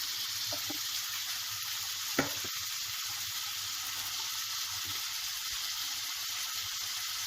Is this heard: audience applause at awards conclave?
no